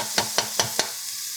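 Ingredients for pasta e fagioli fry in a pot with a steady hiss, while four evenly spaced scraping stir strokes sound up close before the sizzle carries on alone.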